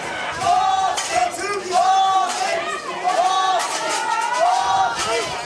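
Crowd chanting at a high school baseball game, a loud, rhythmic group chant repeated in bursts across the stands, with voices overlapping.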